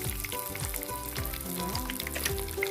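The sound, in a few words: croaker fish deep frying and splattering in oil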